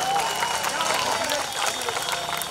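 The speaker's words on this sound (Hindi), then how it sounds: "जोरदार ताली हो जाएगी।" An audience claps and cheers at a Lok Sabha election speech rally, a dense, loud wash of applause from a large crowd.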